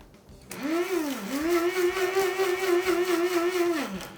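A blender whirs loudly, mixing ground coffee, spices and pepper for a spiced coffee chicken recipe, starting abruptly, its motor pitch dipping once under load before holding a steady high whine for several seconds, then winding down.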